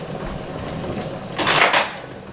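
Cutlery or a kitchen drawer rattles briefly while a spoon or fork is fetched during garlic shrimp cooking, a short clatter in the middle of a quiet kitchen.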